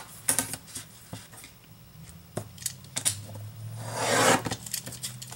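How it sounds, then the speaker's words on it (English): Scissors snipping through the cardboard flap of a cereal box, a few sharp close cuts and rustles, ending in a longer crunchy slice of the paperboard, with no talking. "So I'm going to cut this flap off."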